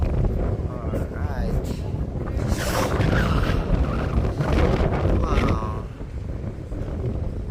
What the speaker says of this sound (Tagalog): yung drone natin maglalaro-laro yun dahil napakalakas talaga ng hangin